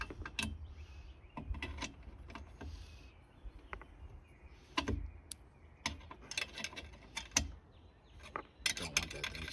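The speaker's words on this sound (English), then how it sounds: "I prefer ratcheting. So kind of just clamp that in, make sure it's nice and tight." Ratchet strap clamp being tightened while fitting a side shower room to a Ford Bronco, with sharp clicking bursts in irregular runs separated by quieter pauses, close and fairly faint.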